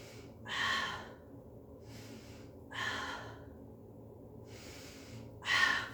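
Breathing during a Pilates mat exercise: three slow, breathy exhalations spaced about two seconds apart, close and soft, over a faint low background hum.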